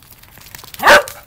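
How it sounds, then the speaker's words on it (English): A puppy lets out a single loud, high bark up close during play, standing alone against a quiet background. "Cooks, no barking."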